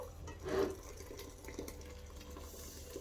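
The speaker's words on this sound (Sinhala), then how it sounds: "දැන් මම වතුර එකක් උතුරව ගත්තා. ඒ වතුර එක මේකේ ගානට" Boiled water is poured from a container onto dry couscous in a bowl, a short close splash and trickle that swells, then fades to a soft liquid wash.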